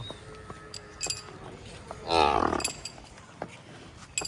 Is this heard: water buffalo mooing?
yes